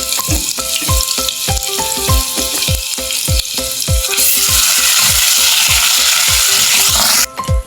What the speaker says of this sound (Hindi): जी थोड़ा थोड़ा थोम फ्राई हो गया